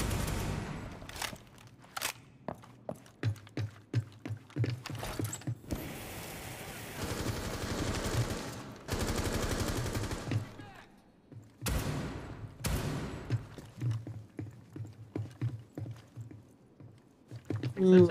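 Rapid bursts of gunfire from Rainbow Six Siege hip-fire shooting crackle in repeated short volleys, moderately loud, interleaved with a person talking over the game.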